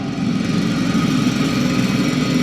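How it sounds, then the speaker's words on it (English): A loud mechanical drill in the sci-fi video game The Invincible drones on continuously, a steady engine-like hum with strong low vibration and no breaks. "It's a drill."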